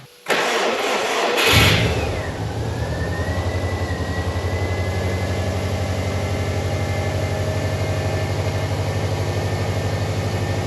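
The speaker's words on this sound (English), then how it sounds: "The car is running. It is sounding amazing." A Subaru engine, just after a head gasket replacement, cranks briefly, catches and roars up, then drops into a steady, rumbling idle that continues evenly, heard close by.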